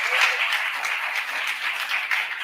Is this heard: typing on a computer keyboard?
no